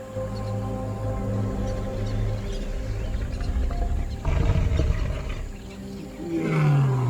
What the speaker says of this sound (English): As the sun sets behind the crater rim, deep roars echo across the land.